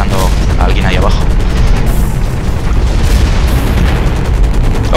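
Turret in the mech shooter Hawken firing a steady stream of shots, loud and close, with booming impacts over a dense battle din, while someone talks over it.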